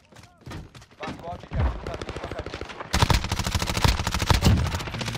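Rapid automatic MP5 fire in Call of Duty Warzone, dense sustained bursts of gunshots that grow louder partway through, with a voice talking over the start.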